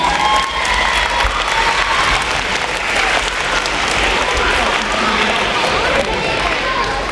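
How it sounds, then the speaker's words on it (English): Schoolchildren at a pep rally break into loud, sustained applause and cheering, a dense wash of clapping and shouts filling a large room from start to finish. "Give yourselves a big round of applause."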